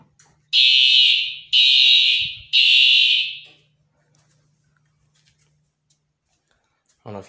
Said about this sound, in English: Let's test our smoke detector.